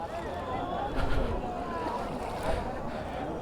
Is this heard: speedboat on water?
yes